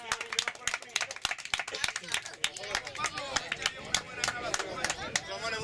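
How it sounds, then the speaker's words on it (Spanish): An audience claps at a greyhound race prize-giving in Noez, 2016. A dense, steady patter of hands runs throughout, with voices and crowd murmur mixed in. "Venga, un aplauso."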